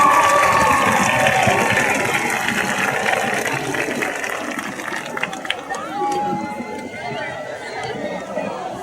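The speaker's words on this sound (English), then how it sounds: "Let's give our 2017 Homecoming Court a big round of applause." A crowd at a high school homecoming cheers and applauds the homecoming court, a loud wash of clapping and shouting that gradually eases, with voices mixed in.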